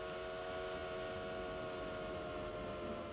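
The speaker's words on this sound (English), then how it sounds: "At the speed of a train, you can sense the change of pitch for sound" A train rolls past at speed, giving a steady, continuous rumble with sustained tonal whine layered over it, moderately loud and with no voices.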